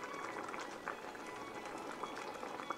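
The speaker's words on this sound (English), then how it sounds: "And we've been simmering about 7 or 8 minutes now." Sausage rotini sauce simmering in a pot gives a steady, soft bubbling hiss with faint pops and gurgles throughout, close and fairly quiet.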